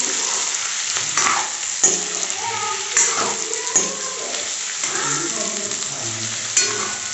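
Onions fry in a pan with a steady sizzle, broken by repeated scraping stirs of a spatula at irregular intervals, close and fairly loud.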